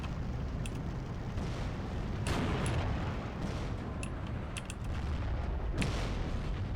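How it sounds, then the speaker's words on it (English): A bazooka fires at a half-track in the WWII strategy game Steel Division II, with heavy booming shots and scattered distant gunfire over a rumbling battlefield wash, several blasts spread through the stretch. "I think that's a bazooka shooting at the half track"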